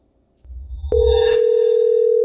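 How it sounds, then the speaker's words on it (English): A spy phone in a psychological horror game is picked up: a soft rumble and click, then a steady, loud telephone dial tone that holds unbroken to the end, with no talking. "There we go, let's pick up our spy phone."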